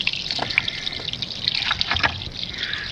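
Water runs from a tap in a Bulgarian village in a steady splashing trickle with small drips and gurgles, close by and fairly clear; mountain water.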